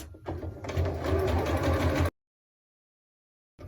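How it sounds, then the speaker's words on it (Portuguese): A sewing machine runs steadily for about two seconds as it stitches a fabric-scrap cutlery holder, a close, even mechanical whir, then cuts off into silence. "Agora é só passar a costurinha embaixo."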